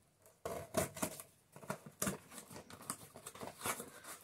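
An old utility knife slices open a package, giving a run of close scratchy cutting and tearing strokes in bursts, with rustling packaging between them and no talk.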